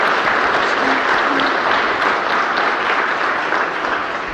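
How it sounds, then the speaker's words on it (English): A large investor-day audience applauds the panelists in dense, steady, loud clapping that holds for the whole stretch and eases slightly toward the end, with no voices over it. "So let's give our panelists a round of applause."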